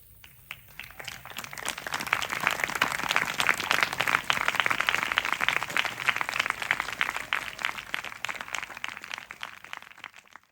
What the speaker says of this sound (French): Si nous pouvons applaudir les traducteurs.